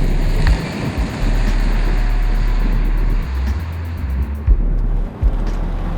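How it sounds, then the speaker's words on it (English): Jaguar XJS V12 coupe driving on a rough, bumpy road, with a steady low engine and road rumble, wind noise and occasional thumps from the surface, loud and continuous with no talking. "how cool to spend some time in this 12-cylinder Jaguar XJS Coupe. I'm on a really bumpy road here"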